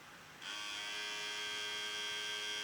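A steady, loud electric buzzing begins after a short quiet moment and continues evenly from a battery-operated Juvalips lip plumper device running close by.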